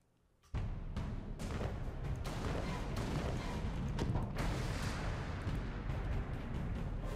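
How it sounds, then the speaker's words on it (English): Loud, booming cannon fire in Alice: Madness Returns during a sharks-and-shipwrecks level, erupting suddenly after a quiet moment into a dense, continuous barrage of repeated blasts. "Press left mouse button to fire cannons"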